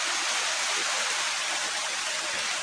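Heavy rain falls as a dense, steady hiss close by, an unbroken wash of drops on surfaces with no voices.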